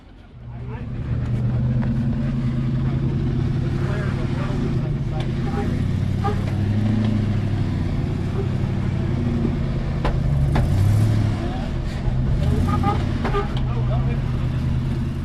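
A Toyota or Jeep off-road vehicle crawling over rocks in Moab, its engine holding a low steady rumble under close talk, with occasional knocks and scrapes as it works over the terrain.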